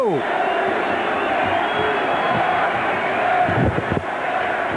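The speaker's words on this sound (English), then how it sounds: "Listen to this crowd." Big baseball stadium crowd at a Mets versus Cubs game in 1984, a steady loud roar of cheering and chatter that holds throughout, with brief sharper shouts near the end.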